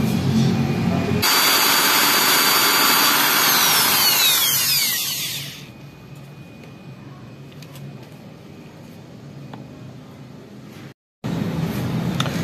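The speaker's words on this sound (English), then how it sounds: "So dito tayo magbabarena. Ayan dyan. Magbubutas tayo dito." A power drill bores a pilot hole into a plastic brake light housing on a Tamaraw. It gives a loud, high whine for a few seconds, then drops to a low hum, and a brief gap breaks it near the end.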